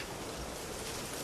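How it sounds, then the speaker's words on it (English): Steady rain pours down in The Witcher 3: Wild Hunt, a dense, even hiss with no breaks across the short stretch and no voices over it. "It looks like rain. It's already raining."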